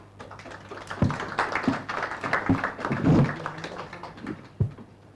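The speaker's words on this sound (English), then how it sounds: "Another round of applause for Sheila." Audience applause at a live sports insurance launch event for a football club, a dense wash of clapping with several sharper peaks, moderately near and steady across the stretch, with a faint hum underneath and no speech.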